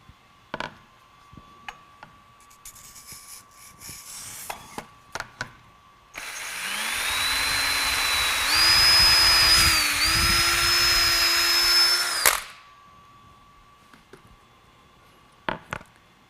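A power drill boring the center hole through a foam prosthetic model, spinning up and whining steadily for about six seconds with the pitch shifting as it cuts, then stopping, with a few scattered knocks around it.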